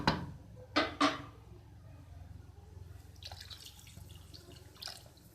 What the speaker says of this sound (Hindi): आधा गिलास पानी डालेंगे